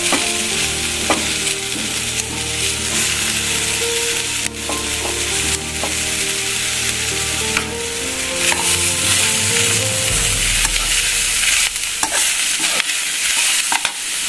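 Grated coconut frying in oil with mutton masala, a loud continuous sizzle close by with the repeated scrape and knock of a spatula stirring through the pan, no talking.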